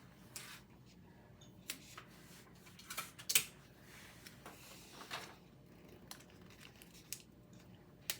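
Tape handled and torn while prepping a t-shirt for sublimation: faint scattered crinkles and short ripping bursts, sharpest around three seconds, close by in a quiet room with no talk.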